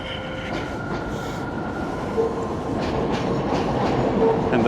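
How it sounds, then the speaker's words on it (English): The New York City A train passes at the elevated Woodhaven Boulevard stop in Ozone Park, Queens, a steady loud rumble of wheels on rails with faint squeals, heard from street level with no talk. "And the famous A train."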